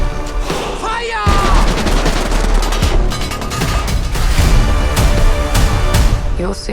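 Gunfire from a war action film trailer: dense, loud volleys of rapid shots and booms crackle over a heavy rumbling soundtrack, with a brief shouted voice near the start.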